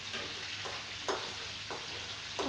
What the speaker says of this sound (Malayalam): വറുത്തോണ്ടിരിക്കുകയാണ്.